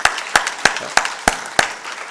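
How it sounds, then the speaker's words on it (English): Audience applause for graduating students at a degree distribution ceremony: six sharp, evenly spaced claps ring out in a slow, deliberate rhythm, not a dense ovation. "Let's give them a real big round of applause."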